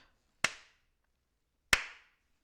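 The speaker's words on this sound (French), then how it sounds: "on applaudit" Two single sharp hand claps, well spaced and alone in a quiet room, each with a short fading tail.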